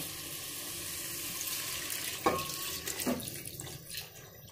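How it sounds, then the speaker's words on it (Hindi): Two glasses of water pour into a pot of rice and dal for khichdi, a steady close splashing stream with a few clinks near the end. "चलिए अब हमने इसके अंदर 2 गिलास पानी डाल देंगे।"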